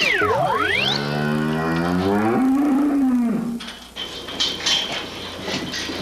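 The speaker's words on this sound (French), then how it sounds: "Ben, ils ont l'air en pleine forme, ces vaches-là." Cows mooing, loud and close: a long low bellow with a rising then falling pitch, followed by a gentler lowing call, and a short burst of rustling afterward.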